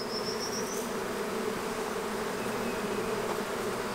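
Dense, steady buzzing of many honey bees around a hive during a honey flow, close and continuous, with a single bee's pitch rising briefly above the swarm.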